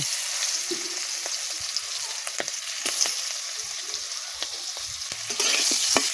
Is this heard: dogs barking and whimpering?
no